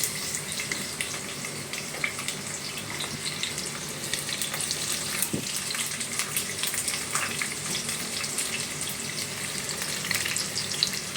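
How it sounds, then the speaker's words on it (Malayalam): Onions fry in hot oil in a pan for a beef curry, a loud, continuous hissing sizzle that stays close and even throughout, with only faint stirring and no voices. "അപ്പോൾ കറിക്കുള്ള എണ്ണ ഒഴിച്ചു, ചൂടായിട്ട് അതിലേക്ക് ഉള്ളിയിടാം"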